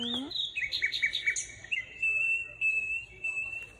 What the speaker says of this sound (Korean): 나무 위의 새가 꽃밭의 동물과 식물들에게 잘자 하고 인사하네요.